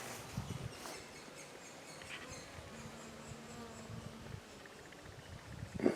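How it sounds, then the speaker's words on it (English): Steady buzzing of bees, a continuous insect drone with a few louder passes nearby, no talking. "There's the bees."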